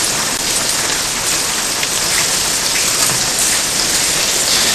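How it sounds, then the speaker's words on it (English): Heavy rain pours in a dense, constant hiss of drops on surfaces, loud and unbroken throughout with no voices. "This rain don't seem to stop, does it, my lord?"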